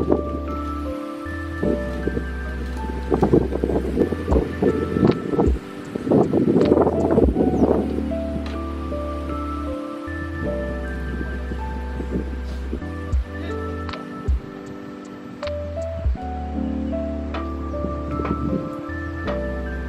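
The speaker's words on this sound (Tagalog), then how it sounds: "Hello, it's windy." Wind gusts across a campsite in the Tanay Highlands, buffeting the microphone with low rumbling bursts and rustling, rising and falling unevenly under a steady background hum.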